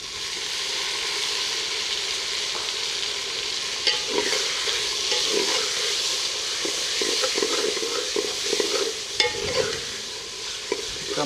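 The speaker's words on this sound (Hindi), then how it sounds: "टमाटर और प्याज को अच्छे तरीके से भून लेंगे।" Tomatoes and onions fry in a pan with a continuous sizzle, while a spoon stirs and scrapes intermittently, close and fairly loud.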